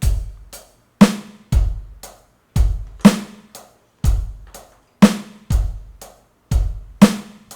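A drum kit plays a steady rock pattern, deep bass drum thumps alternating with sharp snare hits, crisp and close with no other sounds.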